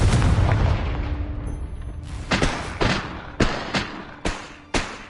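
Explosive Confringo blasting-curse spell from a Harry Potter video game: a dense rumbling boom at the start, followed by a series of sharp, punchy blasts at irregular intervals, loud and close.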